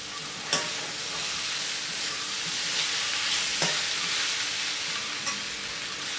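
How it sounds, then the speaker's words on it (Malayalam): Boiled tapioca sautéing with onions in a pan, a steady broadband sizzle with occasional sharp scrapes of stirring, close and fairly loud, no voices. "കപ്പ ചേർത്ത് 2-3 മിനിറ്റ് നന്നായിട്ട് വഴറ്റി കൊടുക്കണം."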